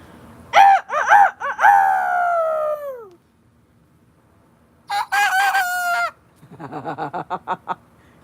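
A man imitates a rooster crow, a loud close cock-a-doodle-doo with a long drawn-out ending, followed by a second crow and a run of choppy cackling calls after a short pause.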